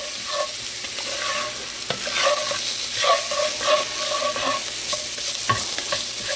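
Flour stirred into sizzling catfish pan juices, with a steady frying hiss under repeated scraping strokes of a utensil across the pan, close and moderately loud.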